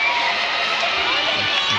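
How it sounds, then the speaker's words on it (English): A volleyball arena crowd at a professional women's league match roars loudly and steadily after a long rally, a dense sustained wall of cheering and shouting. "And listen to this crowd roar"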